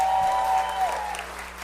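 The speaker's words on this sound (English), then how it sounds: "please, let us all give them a round of applause" An audience at a puppet cabaret gives a round of applause, a moderate crowd clapping that tapers slightly, with a sustained whistle-like tone in the opening moment and low steady hum beneath.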